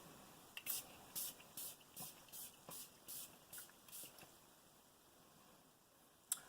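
Caudalie Beauty Elixir face mist sprayed repeatedly, about ten short, soft hissing pumps in a steady rhythm, close and quiet, followed by a single sharp click at the end.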